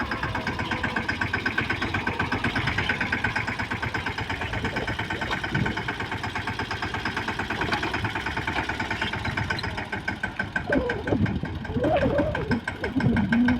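A mini tractor's small diesel engine chugs loudly and steadily nearby as it reverses in a groundnut field, its rapid knocking rhythm continuous, with a brief voice near the end.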